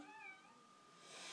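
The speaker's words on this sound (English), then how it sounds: "We have a little pussycat in our room." A small cat gives one drawn-out, whiny meow indoors, close and fairly clear, with a slight rise in noisy hiss toward the end.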